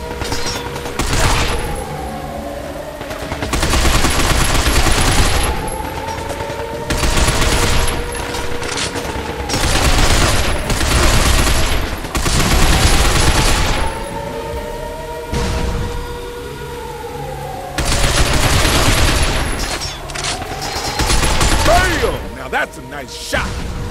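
Repeated bursts of automatic gunfire shooting robots in the Binary Domain game, loud sustained volleys with short pauses between, mechanical whirs and thuds mixed in, with voices talking over the action.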